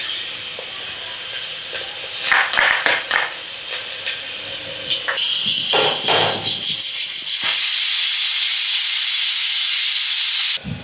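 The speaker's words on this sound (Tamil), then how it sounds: "இஞ்சி பூண்டு பேஸ்ட்டு எண்ணெயில் போட்டு நல்லா வதக்கியாச்சு." Ginger garlic paste sautéing in hot oil crackles and hisses loudly, with stirring scrapes early on that build into a steady, intense sizzle.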